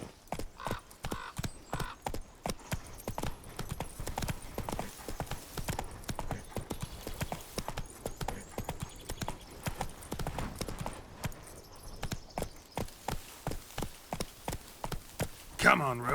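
Geralt's horse Roach gallops in The Witcher 3, hooves pounding in a fast, steady rhythm throughout, with someone talking over the hoofbeats.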